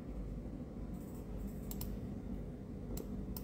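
Computer keyboard keys being tapped to delete text, a few light, sparse clicks scattered over a steady low background hum, with no speech.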